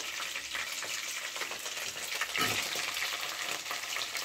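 Chopped garlic and onions fry gently in a pan for chilli chicken, giving a steady soft sizzle and crackle with faint stirring scrapes, close and continuous without any talk.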